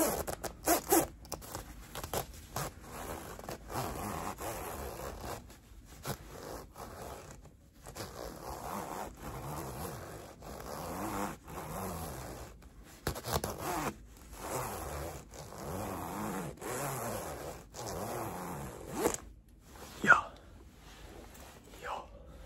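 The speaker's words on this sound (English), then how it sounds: "Some zipper, a little bit of zipper." Clothing zipper zipped close to the mic in a lofi ASMR session, with repeated short rasping pulls and fabric rubs in irregular bursts, soft but close, alone without talk.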